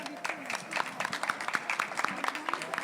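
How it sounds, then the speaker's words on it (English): A symposium audience applauds panel guests: a short, steady patter of clapping in a hall, mixed with a voice talking over it. "I want a big applause to our guests"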